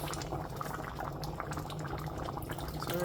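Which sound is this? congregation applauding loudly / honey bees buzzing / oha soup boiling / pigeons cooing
oha soup boiling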